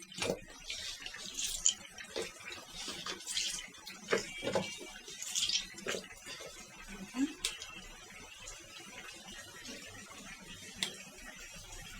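Water drips and trickles from squeezed cooked taro greens pressed by hand, coming in irregular soft splashes and small bursts that are fairly quiet and close, with no speech.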